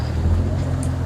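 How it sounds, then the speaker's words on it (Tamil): A fishing boat coming in from the sea toward a shore where villagers haul a beach seine net, heard as a steady low engine drone with wind over the water, holding at an even level through the moment. "இப்போ அந்த போட் வந்துடுது"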